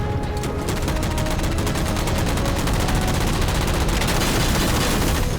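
Sustained rapid gunfire in Halo 4 as jammers are shot down, a dense, loud, continuous stream of automatic shots close up, with no talking.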